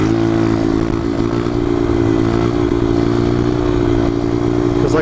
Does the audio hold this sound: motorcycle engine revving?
yes